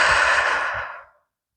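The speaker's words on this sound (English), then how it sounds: "One last big deep breath here together." A single big, deep exhale during a yoga practice, loud and close, a long breathy whoosh that fades out after about a second into silence.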